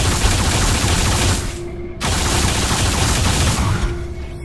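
Rapid gunfire aimed at bridge servos in the sci-fi shooter Alien Rage, a dense continuous fusillade that breaks off briefly midway and then resumes, loud and close throughout.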